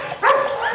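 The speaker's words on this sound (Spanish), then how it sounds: "Una perrita blanquita con manchas y una negra." A small dog lets out a single short bark, close and fairly loud, in a brief moment with no talking.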